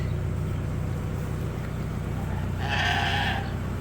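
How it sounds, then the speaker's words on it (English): Sheep, ewes and rams penned on a farm, with a single bleat standing out late in the clip over a steady low rumble of background noise. "These are the ewes on this side, and these are the rams on this side."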